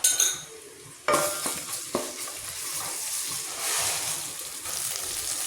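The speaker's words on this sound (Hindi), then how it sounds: "अब इसमें कुछ टाइम इसमें फ्राई करते हैं अच्छी तरीके से, ताकि ये पेस्ट अच्छी तरीके से भुन जाए प्याज के साथ" Spice paste of crushed ginger, garlic and green chillies frying with onion in a pan: a steady close sizzle with a sharp clank at the start and scraping stirs now and then, with no one talking.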